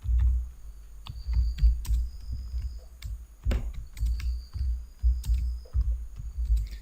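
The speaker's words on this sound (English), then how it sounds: "now you type this command" Someone types a command on a computer keyboard in a Windows 10 PowerShell window, producing a steady run of close, fairly loud key taps with small bursts and brief pauses.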